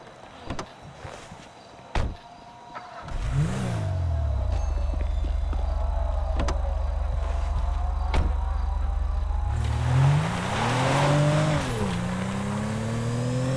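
Car driving in GTA V on PS5: a few sharp clicks and thumps, then a loud engine revs up and holds a steady drone, with a higher rising rev and whoosh near the end; no talk over it.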